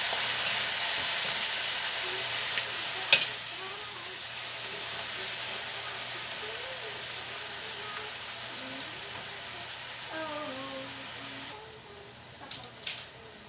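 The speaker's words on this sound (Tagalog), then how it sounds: "Next, ilalagay natin yung toyo para magkaroon ng lasa yung tofu." Tofu sizzling steadily in a hot pan as soy sauce is added, a continuous loud frying hiss with a few sharp clinks of utensil against the pan.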